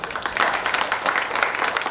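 An audience applauds after a dance performance at a temple cultural programme during a Maha Kumbhabhishekam celebration, with dense steady clapping throughout the short stretch.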